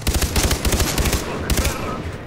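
Rapid machine-gun fire and gunshots crackle in Far Cry 3 co-op combat, dense bursts of shots and rocket fire close by, loud and continuous with brief lulls.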